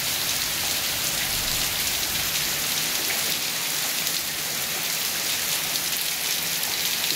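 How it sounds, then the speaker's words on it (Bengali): Heavy rain pours steadily over flooded railway quarters, a dense continuous hiss of drops on water and surfaces, loud and close with no pauses. "প্রচন্ড বৃষ্টি হচ্ছে, জল জমে গেছে কোয়ার্টারে।"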